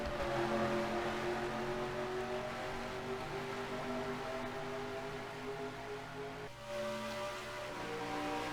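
Stock cars race at Kansas in a sim racing game, engines droning in a steady high-pitched whine with layered harmonic tones that shift briefly as a car passes, continuous and loud with no talking.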